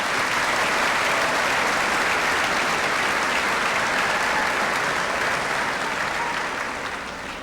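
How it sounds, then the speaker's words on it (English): A crowd at a high school graduation ceremony breaks into sustained applause, a thick wash of clapping from many hands that holds steady and then starts to thin toward the end. "Let's give them a spirited round of applause."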